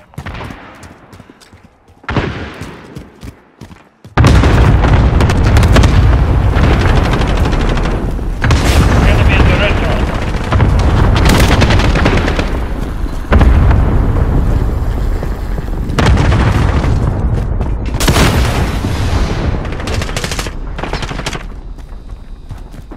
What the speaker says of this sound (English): Allied cluster strike incoming.